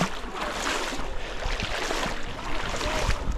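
Boat ride on the Zayandeh River, with steady water wash and wind rushing close by, a continuous broadband noise that stays even throughout.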